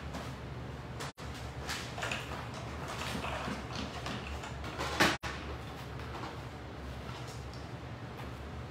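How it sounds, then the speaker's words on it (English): A die cutting machine runs while a paper Christmas card is pressed through it, a steady mechanical grinding and clicking rumble with two sharp brief dropouts and a slight swell midway, moderately faint, with no talking. "I'm gonna take these over and run them through the die cutting machine"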